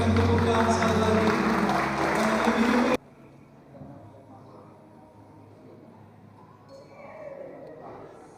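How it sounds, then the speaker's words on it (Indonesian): Loud applause from wedding guests fills the opening few seconds, then cuts off abruptly, leaving quiet hall ambience with faint murmuring. "Mari kita berikan tepukan sekali lagi."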